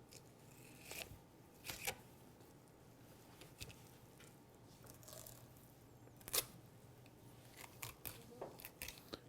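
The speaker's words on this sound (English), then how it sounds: "Cut through the rib cage" A knife cuts through the rib cage of a salmon being filleted, giving faint scattered crunching snaps and clicks at irregular intervals over a quiet background.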